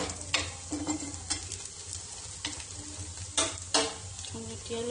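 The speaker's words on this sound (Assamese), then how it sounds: "এখন লুটিয়াই দিম।" Pizza base mixture stirred in a hot pan on a home stove, with a steady sizzle of frying and a few scraping stirs breaking through at intervals, close and fairly quiet, with no voices.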